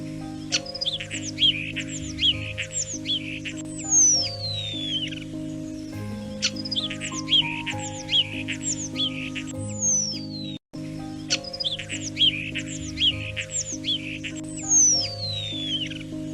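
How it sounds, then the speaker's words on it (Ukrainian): Starlings chirp and warble in quick repeated phrases over steady background music, the high calls close and clear throughout. "Послухайте, як пташки співають."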